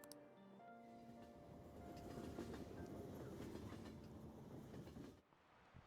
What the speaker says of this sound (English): Looks like the train's coming.